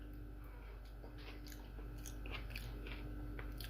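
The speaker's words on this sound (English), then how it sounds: "the crunch of them spring onions is absolutely mighty fucking fine" Crunchy spring onions in creamy garlic mash made from King Edward potatoes being chewed up close, a steady run of crisp, wet crunches and bites with no talking.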